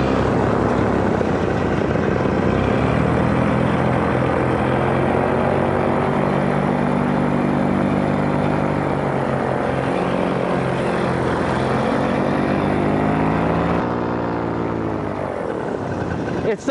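Powered paraglider engine droning steadily and loudly throughout a flight, a continuous propeller roar that shifts slightly in pitch near the end.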